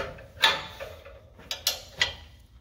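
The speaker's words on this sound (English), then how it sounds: "Loosen up the jam nut a little bit." A 15/16 open-end wrench works a jam nut loose on a PullRite SuperGlide hitch, giving a handful of sharp, close metallic clicks and knocks spaced over a quiet background.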